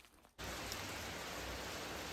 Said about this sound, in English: Hail again.